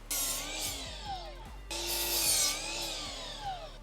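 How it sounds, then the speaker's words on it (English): Wooden wall studs for a backyard playhouse are cut with a hand saw, two loud rasping strokes in rhythmic back-and-forth bursts, close up with no talk. "Next, we'll cut the studs for our rear wall."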